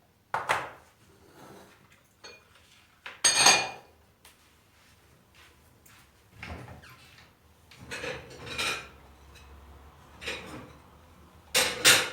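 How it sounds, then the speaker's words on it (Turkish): A spoon scrapes and knocks against a pot while tarhana soup is stirred, irregular metallic clinks and scrapes spaced a second or two apart, close and fairly clear, with no talking. "Tarhana çorbası karıştıra karıştıra pişiyor."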